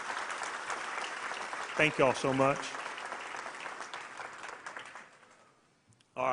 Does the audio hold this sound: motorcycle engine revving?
no